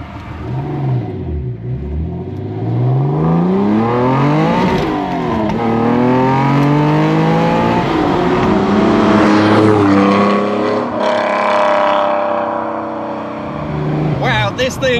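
A TVR Tuscan sports car engine revs up repeatedly, pitch climbing through the gears with loud, close acceleration and shifts, sustained roaring throughout.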